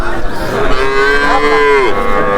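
A single loud, close moo from Australian or crossbreed cattle at a cattle market, drawn out and slightly rising before tapering off.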